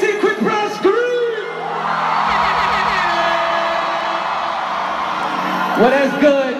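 Concert crowd at a show in Paris Bercy arena screaming and cheering loudly, a sustained roar of yells and whoops with an MC's voice at the start and end.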